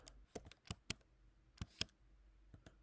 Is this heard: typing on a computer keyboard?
yes